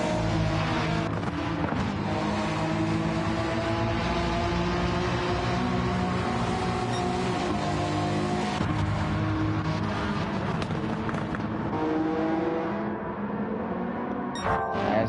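Race cars including a Dodge Viper, Honda NSX and Nissan Skyline R34 lapping the Nürburgring in Gran Turismo 7, engines howling and shifting through revs in a continuous loud roar, with cars passing close.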